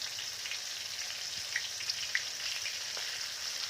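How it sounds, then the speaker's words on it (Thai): Oyster mushrooms coated in Gogi crispy batter fry in hot oil, giving a steady, fairly quiet sizzle with a few small pops and crackles and no voices. "เราก็ทอดไปเรื่อย ๆ นะครับ"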